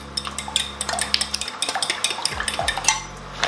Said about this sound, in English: 100 grams of milk, give that a whisk together